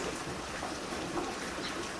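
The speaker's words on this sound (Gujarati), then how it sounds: "હજી વરસાદ પણ ચાલુ છે" Rain falls steadily outdoors, making a continuous, even hiss of drops that fills the whole stretch at moderate loudness, with no one speaking.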